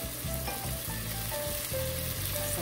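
Garlic frying in a pan over low heat for a pasta dish with corned beef and ground pork, giving a steady, close sizzle with light stirring and faint background music underneath.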